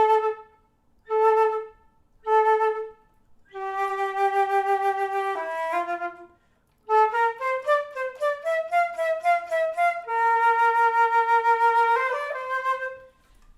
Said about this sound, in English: Now, like if I was playing this just as a flutist, it would sound like this.